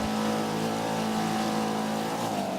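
An Audi RS 3 LMS TCR race car at speed at Road America during a Michelin Pilot Challenge race, a loud, steady engine drone with strong harmonics holding high revs throughout, the pitch shifting slightly near the end.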